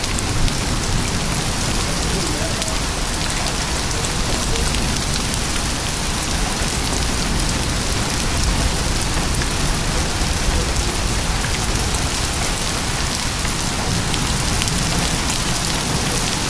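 Pea-size hail pours down in a severe St. Louis, Missouri storm, a dense, steady hiss and patter of impacts filling the whole stretch with no let-up.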